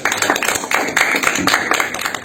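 Round of applause from a gathered audience at a civic event in Queimados, dense steady clapping filling the whole stretch at moderate loudness with no talk over it.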